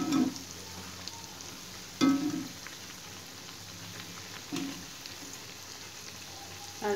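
Crisp piyaju fritters of lentils and greens fry in hot oil with a steady sizzle, broken by three or four louder splashes and scrapes as pieces are flipped.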